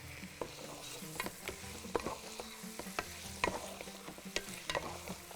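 Onions and meat frying in a pan in a home kitchen for a Bahraini dish, a steady close sizzle broken by scraping and clinking strokes of a utensil as the mixture is stirred, with no talk.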